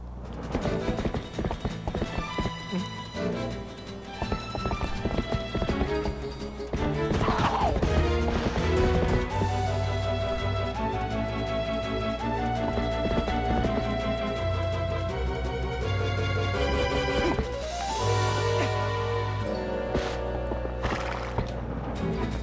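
Galloping horse hooves in the video game The Legend of Zelda: Twilight Princess, a steady clip-clop with occasional neighs, played under a continuous loud orchestral game score.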